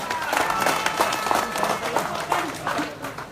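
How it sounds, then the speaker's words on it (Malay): A crowd at an outdoor political rally in Paloh, Johor claps for an arriving member of parliament, steady scattered applause of many hands, moderately loud and continuous. "tepukan kepada YB Cintong"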